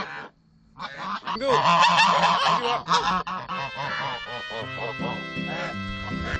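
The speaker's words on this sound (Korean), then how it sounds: "며칠 뒤 거위들은 또다시 앵두에게 시비를 걸고 있다." A flock of geese honks loudly and insistently up close, their harsh calls overlapping in a noisy, agitated chorus.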